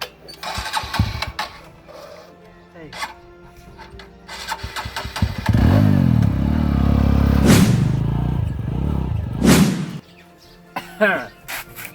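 A motorcycle engine starts up and runs loudly at idle in the middle of the clip, with a revving rise and fall. Voices talk before and after it, and there are sharp clatters near the end.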